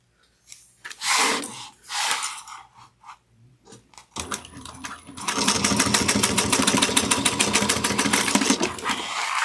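A sewing machine top stitching a clear vinyl bag, first a few short stitch bursts, then a steady, loud, fast run of needle strokes close by.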